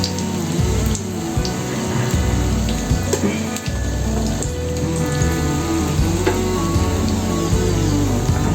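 Raw banana koftas frying in a pan of oil give a loud, steady, rain-like sizzle that runs unbroken through the whole stretch, with no voices.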